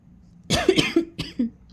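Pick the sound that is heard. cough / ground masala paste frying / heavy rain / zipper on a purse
cough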